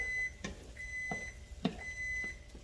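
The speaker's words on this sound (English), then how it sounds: "There go the timer." A kitchen timer beeps in a kitchen during pasta meal prep, sounding a few sharp, evenly spaced electronic tones with short gaps, clear and fairly close, with no talk over them.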